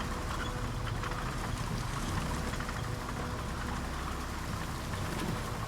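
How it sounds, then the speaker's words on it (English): Rain and high wind in the vehicle game RoadCraft: a dense, constant hiss of rainfall blended with a windy rush, loud and unbroken throughout, with no voices. "Even in the high wind and the rain and what have you."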